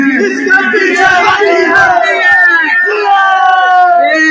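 A crowd of protesters chants slogans together with a police officer in Islamabad, loud and close: rhythmic, repeated shouted phrases from many voices, continuous throughout.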